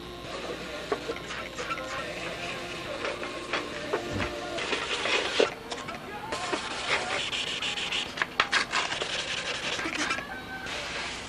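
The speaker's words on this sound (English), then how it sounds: "got that whole wing panel sanded out" Sandpaper works over a balsa model aircraft wing panel with continuous close rubbing strokes, loud and scratchy with short pauses, under occasional talk.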